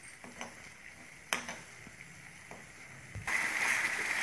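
Red chilli chutney made from dry red chillies cooks in oil, giving soft wet bubbling and spluttering with a few sharper pops, then a louder burst of sizzle near the end.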